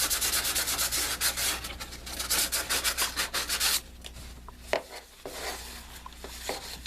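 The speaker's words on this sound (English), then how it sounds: "If you don't scuff it enough, your sub's going to come apart." Rockford T1/T2 subwoofer parts are scuffed by hand during a recone, a close, rhythmic back-and-forth sanding rub for about four seconds, then a few scattered scrapes and quieter handling.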